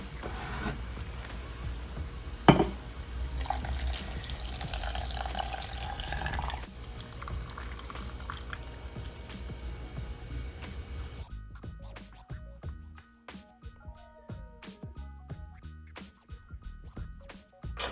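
A jar being filled with liquid while making apple cider vinegar with a starter: a steady rushing pour for about eleven seconds, with a clunk early on, then softer trickling and scattered drips near the microphone.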